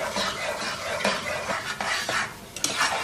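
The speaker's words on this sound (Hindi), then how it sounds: "और अब इसको चम्मच चलाते हुए पकाएंगे" A spoon stirs semolina halwa cooking with sugar, saffron milk and ghee in a pan, a close, busy run of scraping and clinking against the metal over a low sizzle, with no speech.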